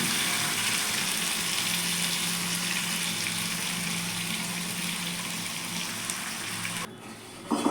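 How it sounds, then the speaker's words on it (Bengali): Water poured into a hot pan of frying khoira fish with raw tomatoes gives a steady, loud gushing sizzle that holds for several seconds, then suddenly drops away to a quiet simmer. "জলটা দিয়ে দেবো।"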